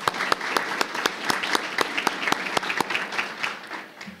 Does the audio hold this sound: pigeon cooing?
no